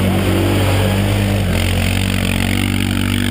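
A dirt motorcycle revs loudly and steadily while riding in mud, its engine note holding close and continuous with a slight shift in pitch partway through.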